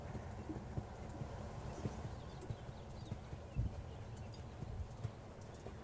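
Horse hooves clip-clopping at a steady trot across an arena during a dressage schooling session, a rhythmic close beat of footfalls over a low background rumble.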